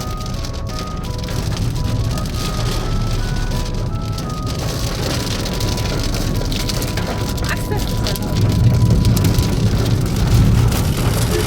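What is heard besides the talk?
heavy rain falling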